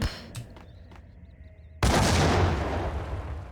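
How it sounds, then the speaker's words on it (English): A grenade in the video game Max Payne goes off with a sudden loud, booming blast that cuts through quiet game ambience and leaves a long rumbling, crackling tail. "So we throw the grenade in this hole."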